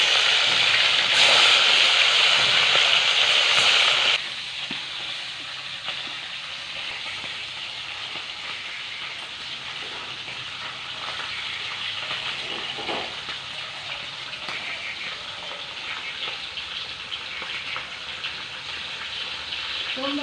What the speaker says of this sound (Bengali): এটা গরম হয়েছে, মাছগুলো ভেজে নেবো